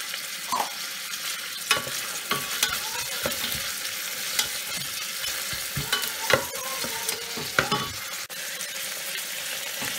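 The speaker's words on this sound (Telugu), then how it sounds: "ఇప్పుడు ఇందులో మనం చిల్లీస్ యాడ్ చేస్తున్నాము." Chillies fry in hot oil in a pan for bagara rice, a continuous sizzle broken by frequent scraping stirs and light clinks of a utensil against the pan, close up with no voices.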